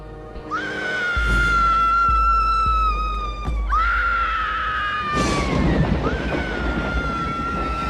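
A woman's ear-piercing shriek in the cold open of the horror film Scream, several long, loud, piercing screams in quick succession over a dramatic score, with no talking.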